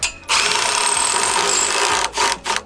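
A power driver runs self-tapping screws through a 2x4 into the coping of a backyard mini skate ramp, a loud steady whir for about two seconds followed by two short bursts, with no talk.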